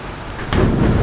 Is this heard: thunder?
yes